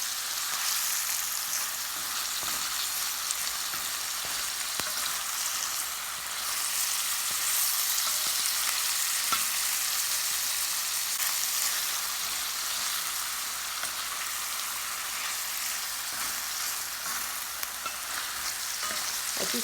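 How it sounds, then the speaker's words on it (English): Tofu fries in hot oil in a Le Creuset balti dish for a spicy curry, giving a steady, close, hissing sizzle with faint crackles throughout, and no voices. "I'm going to add a little bit of this tofu so it can cook into the oil"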